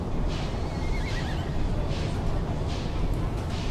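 Horses neigh and whinny repeatedly over a dense, steady bed of Wild West town ambience in a Syrinscape soundscape, with a few faint hoof clops mixed in.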